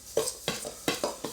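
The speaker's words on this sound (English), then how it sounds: "Going to stir all those through" Ground almonds being stirred through a dry crumble mixture in a bowl, four distinct scraping strokes in a steady rhythm, close and fairly quiet with no talking.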